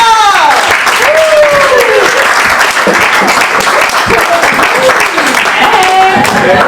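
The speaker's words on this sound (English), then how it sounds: "Everybody start clapping for Olga!" A stand-up comedy club crowd greets a comedian with loud, sustained clapping. Whoops and cheering voices ride on top of the applause throughout.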